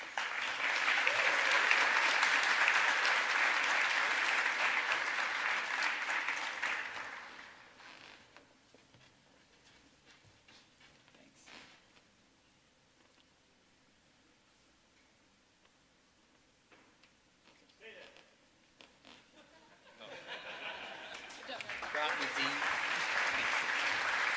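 An audience at a startup pitch competition's award ceremony breaks into loud, sustained applause for the winners. It then falls away to a quiet lull with faint talk before the clapping swells back up near the end.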